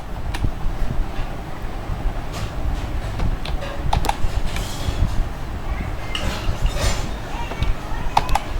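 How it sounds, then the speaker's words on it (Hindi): Computer keyboard typing with scattered key clicks and taps, steady but uneven, over a continuous background hum during an Excel formula tutorial. "आपको कीबोर्ड में अपना प्रेस करना है ऑल्ट इक्वल टू"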